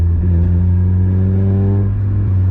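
Stock NA Mazda Miata engine held at full throttle, a loud, steady low drone with strong engine harmonics heard from inside the car, rising slightly toward the end.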